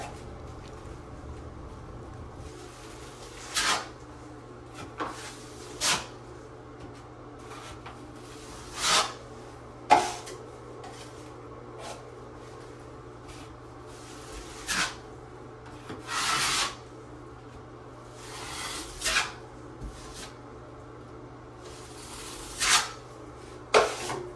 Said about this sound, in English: We're feathering this out. We're scraping off all the excess,